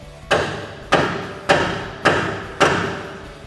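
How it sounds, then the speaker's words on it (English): A hammer strikes the steering knuckle of a 2009-2020 Ford F150 to release the ball joint: five loud, close, evenly spaced metallic blows, each ringing briefly, with no talk. "Go ahead and grab your hammer and strike the knuckle."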